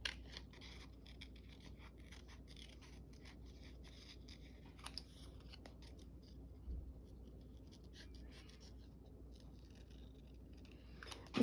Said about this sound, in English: not using the marker, just cutting out the line